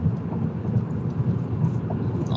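Steady rain drums on a moving car during a highway drive, a dense, even wash of patter mixed with low road rumble, continuous and fairly loud throughout with no voices.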